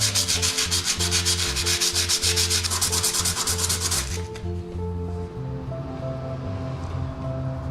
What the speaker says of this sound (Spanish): voy a proceder a lijar